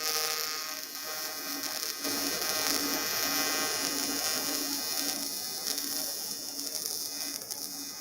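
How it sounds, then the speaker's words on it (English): TIG arc on 6061 aluminium during an edge weld with 3/32 filler on an Everlast welder: a steady, close buzzing hiss with a faint pulsing hum underneath, continuous throughout. "Let's do a little edge weld."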